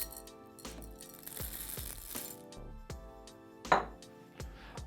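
Coffee beans poured into the hopper of a Hario Smart G hand grinder, a quick scattered rattle of beans hitting and clattering, then a few sharper knocks as the bean flow settles.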